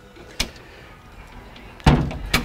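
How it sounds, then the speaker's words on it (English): Walk-through windshield door on a 2012 Chaparral 216 SSi sport boat swinging shut, with a soft click early on, then a firm latching thump and a final knock, close and alone. "As we close the walk-through door"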